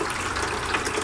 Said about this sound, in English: I've got my pond pump hooked up and it's running down the sluice.